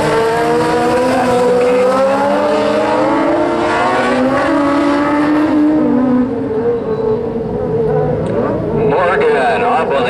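Dwarf race cars in a trophy dash on an oval track, engines revving and wailing as they pass, loud and continuous, with an announcer talking over them.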